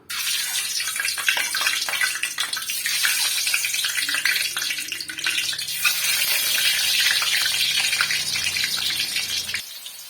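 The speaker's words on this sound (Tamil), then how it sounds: "இப்போ மீடியமான ஃப்ளேமில் வச்சுட்டு இப்போ நம்ம முட்டைகளை சேர்த்துக்கலாம்" Eggs frying in oil heated to medium flame: a loud, steady hiss and crackle of sizzling oil, close up and continuous for about ten seconds before stopping abruptly.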